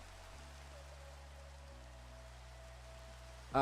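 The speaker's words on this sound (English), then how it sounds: "get rid of this awful rain" Rain falls steadily in the Minecraft Sky Factory 5 video game, a soft continuous hiss with low hum beneath it, ending in a brief louder sound.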